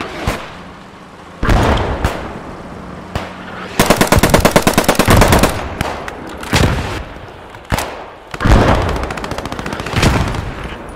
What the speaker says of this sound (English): They got a counter barrage going on.